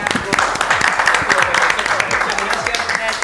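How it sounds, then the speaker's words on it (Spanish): Loud audience applause in a radio studio program, dense continuous clapping with scattered sharper claps throughout, and a voice faintly heard in the mix. "Fuerte el aplauso"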